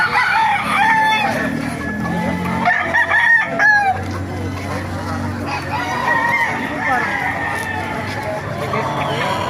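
Roosters and hens crow and cluck in a busy market in Baliuag, several calls overlapping, while people talk nearby over the bird noise.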